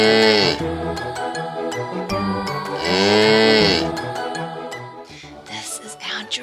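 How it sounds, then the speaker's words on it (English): A cow lets out two loud, drawn-out moos close up, separated by a short pause, followed by a faint jingling at the end. "This is a cow. Can you moo like a cow?"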